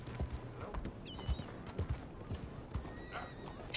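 A horse in Red Dead Redemption 2 whinnies over the clatter of hooves clip-clopping along at a steady pace, with faint speech mixed in.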